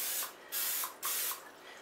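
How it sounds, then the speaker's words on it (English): Vegetable oil cooking spray misted into a loaf pan while making beer bread, two short hissing bursts close by with a brief pause between them. "this is just a vegetable oil spray"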